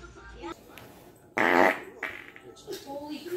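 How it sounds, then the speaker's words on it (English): Comedic burrito-themed fart compilation: a loud, sputtering fart bursts out mid-clip, flanked by quieter bits of voices talking before and after it. "Mr. Bob, that was another fart."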